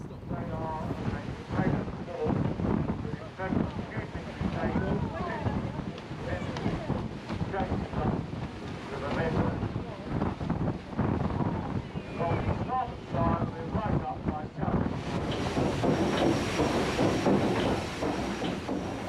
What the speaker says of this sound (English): we were back at sea again, enjoying the benefits of the paddle steamer